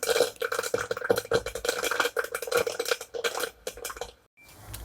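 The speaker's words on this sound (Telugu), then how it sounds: "కొద్దిసేపు మనం మూత పెట్టుకున్నాము లేదంటే ఆయిల్ అంతా ఎగురుతుంది చేతుల అంతా చూడండి అయినా మూత పెట్టినా కానీ ఎలా సౌండ్ వస్తుంది" Horse gram frying in hot oil under a lid gives a dense, loud rattle of popping and crackling seeds striking the cover. The rattle thins out and drops off near the end.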